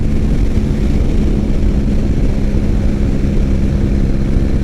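A 2006 Triumph Bonneville motorcycle riding down the road, its engine a loud, steady drone mixed with wind rush, close and continuous with no talk.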